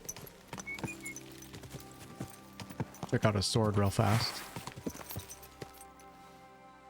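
Horse hooves clip-clop at a steady trot in the medieval game Kingdom Come: Deliverance II, close and rhythmic throughout, while someone talks over the hoofbeats partway through.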